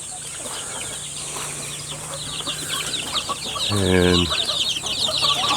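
Older Kabir chicks and a native hen clucking in a coop, steady soft clucks and peeps throughout with a louder close burst of clucking near the end, amid a faint background hum.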